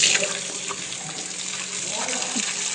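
Cold well water runs steadily from a tap or hose outdoors on a cattle farm while someone holds it, a continuous close rushing splash with faint background sounds.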